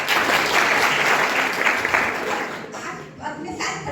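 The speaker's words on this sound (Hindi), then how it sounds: "तो आप इन लोगों के लिए भी ताली बजाइए।" Audience applause at a user awareness programme, a dense wash of clapping from many people that carries on steadily, then thins into scattered claps near the end.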